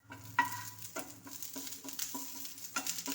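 Curry leaves frying in hot oil in a pan where chillies were just roasted, a close, low sizzle broken by several sharp crackles and pops from the leaves.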